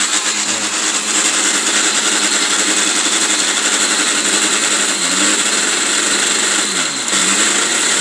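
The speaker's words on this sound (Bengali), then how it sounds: "আমি তো পলসে দিছি, এই যে এখন স্পিড দিয়ে দিলাম" A Bajaj kitchen blender running at full speed, a loud, steady motor whine held close with no pause, with slight dips in pitch as the load shifts.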